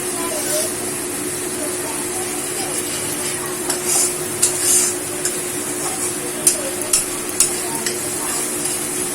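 Ground poppy seed paste cooks in a pan after a cumin tempering, giving a steady broadband sizzle with a few sharper spatters and scraping stirs toward the end.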